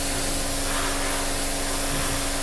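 Compressed air hisses steadily from an airbrush drying thinned paint on a 1/48 scale Tamiya P-47D or P-51D model kit, a close, loud, continuous hiss with no talk.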